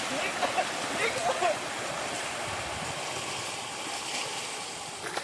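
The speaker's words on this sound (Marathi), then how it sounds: "अजून पाणी वरतून पाणी अरे पाणी चालू झालं भाई" Water pours steadily down from above at Pahine waterfall near Nashik, a continuous broadband rush with voices talking over it.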